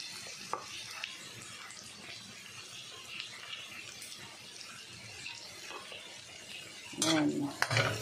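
Food being sautéed in a pan over a strong flame, giving a steady low sizzle with faint scrapes of a utensil and a louder clatter of stirring near the end.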